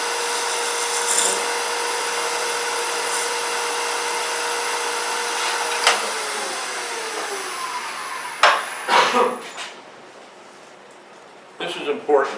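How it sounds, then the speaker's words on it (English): A scraper cuts wood on a lathe while a stump box is being turned, giving a steady whirring hiss broken by a few sharp scraping bursts near the end. "I'm getting really nice shavings with this scraper."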